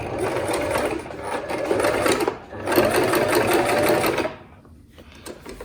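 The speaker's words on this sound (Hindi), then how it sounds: "मैं यहाँ पे सिलाई लगाती चली जाऊँगी। पहले मैं इलास्टिक को यहाँ पे पक्का कर रही हूँ।" A sewing machine stitches elastic into a palazzo waistband, its needle chattering steadily in two long runs with a brief pause between, close up, then slowing and stopping near the end.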